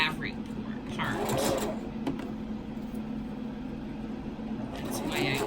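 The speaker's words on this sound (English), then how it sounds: "So I'm not actually sewing on the metal, I'm sewing on the fabric." A sewing machine stitches fabric around a metal piece for a homemade face mask. It runs with a steady, muffled mechanical whir under a person talking.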